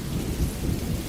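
Thunder and rain outdoors in a storm: a steady wash of falling rain over a continuous low rumble of thunder, loud and dense throughout, with no voices.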